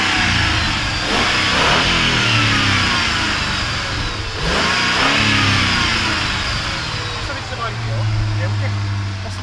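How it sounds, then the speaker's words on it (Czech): A 2004 Jeep Grand Cherokee 4.7 V8 running on LPG revving close by at the exhaust, rising and falling in several throttle blips over a rumbling idle, with people talking over it. "Já vypnu tam ještě zaběr na výfuk, jaký to má fajný zvuk."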